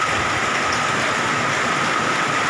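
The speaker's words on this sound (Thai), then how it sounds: "สุดยอดครับนี่ครับมีลูกเห็บทั้งนั้นเลยครับ" A heavy hailstorm in Kham Cha-i, Mukdahan, with dense hail and rain pouring onto a road in a constant loud roar and no distinct individual impacts.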